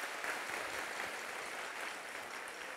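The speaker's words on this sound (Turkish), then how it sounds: "Efendim önce orkestrasına bir alkış alalım, hoş geldiniz diyelim değerli sanatçılara" Studio audience applauding an orchestra and musicians at a live Turkish television show, a steady, even wash of many hands clapping at moderate distance with no talk.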